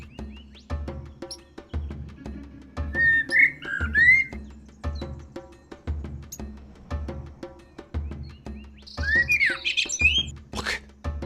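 Bird chirping in the video game Copycat, with short whistled tweets in two bursts over a steady, rhythmic low thumping and clicking background, near and fairly clear.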